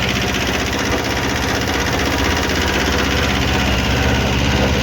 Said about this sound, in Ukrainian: Маленький тракторець 9 коників.